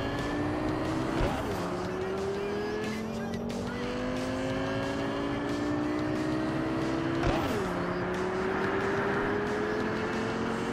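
A car engine in Cyberpunk 2077 heard from outside the vehicle, a loud steady drone with rising pitch sweeps that drop twice as gears shift, continuous and close.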